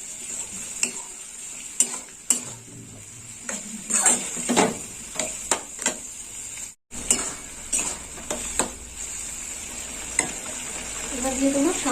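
Potol ghonto, a pointed gourd curry, bubbles and sizzles in a pan, with steady frying hiss under repeated clinks and scrapes of a spoon stirring against the metal.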